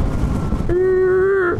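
Zero SR/F electric motorcycle under regenerative braking as the throttle is released: a steady rising-then-level electric whine with harmonics starts abruptly over road and wind rumble and holds for under a second before fading.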